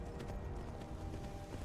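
Horse hooves clip-clop in the Skyrim video game, a few soft, uneven thuds sitting under a steady wash of ambient noise, moderately close, with no talking.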